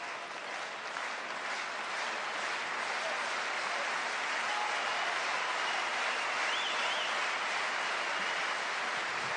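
Crowd cheering and applause at a World Table Tennis Championships 2017 men's doubles match, Ma Long and Timo Boll against Xu Xin and Fan Zhendong, a steady, dense roar of clapping heard from a distance, with no break throughout.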